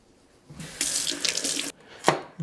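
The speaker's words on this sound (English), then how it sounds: "Let me wash my hand" Running tap water splashes into a kitchen sink while hands are rinsed under it, a close, steady rush that starts, breaks off briefly, then returns in a few short splashes.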